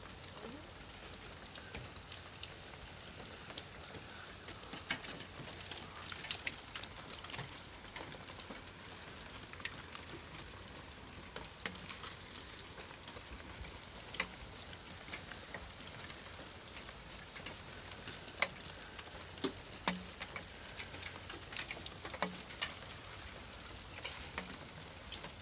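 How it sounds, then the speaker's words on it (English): Melting ice crackles and drips steadily like heavy rain on a surface, a dense, even patter with scattered sharper ticks throughout and no talk. "Sounds like it's pouring down rain."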